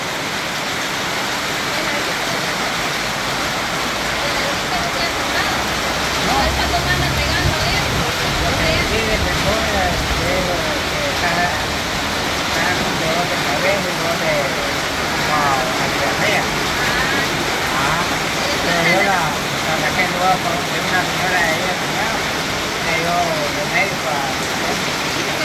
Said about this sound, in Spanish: acá está lloviendo ahorita